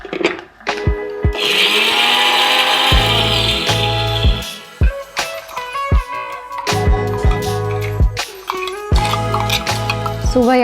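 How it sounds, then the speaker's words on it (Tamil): Mixer grinder grinding coconut for kuzhambu, a loud whirring motor in short repeated bursts with clinks and rattles of the jar between runs. "இப்போ நம்ம தேங்காய் அரைச்சிக்கலாம்."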